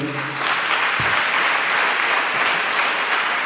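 A church congregation claps loudly and continuously, dense applause filling the room for a few seconds without pause.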